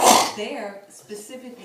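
A single sharp sneeze bursts out at the very start, loud and close, followed by someone talking.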